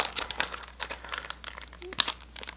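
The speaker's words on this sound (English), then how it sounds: "You just fold it and rip." Pig-Nose blackhead strip packets being torn open, close crinkling and ripping of the foil wrappers in a few quick bursts, with no speech.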